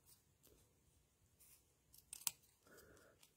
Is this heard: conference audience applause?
no